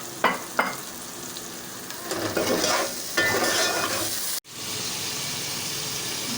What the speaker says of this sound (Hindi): अभी मसाला भुन जाएगा फिर हम माश की दाल को डालेंगे